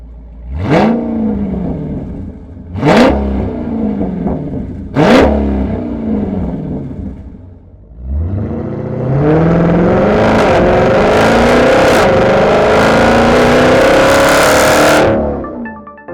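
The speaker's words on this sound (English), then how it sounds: "you want that race car kind of pop and cackle, we do offer our xTreme Delete" A Dodge Challenger's loud straight-pipe exhaust, muffler replaced by a straight pipe, revs sharply three times, each blip crackling down, then holds a long roaring high-rpm rev before cutting off.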